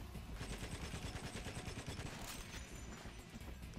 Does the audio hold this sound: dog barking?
no